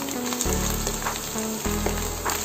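Mushrooms frying with garlic in a pan make a loud, continuous close-up sizzle and crackle, with faint background music underneath.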